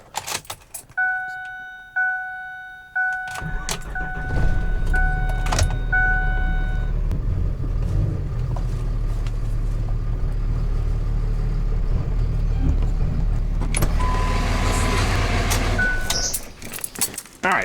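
A Cummins diesel-swapped Ford truck is keyed with chimes sounding, then its engine fires and settles into a steady low idle and rumble as it pulls into a shop, ending with a brief rise and cutoff.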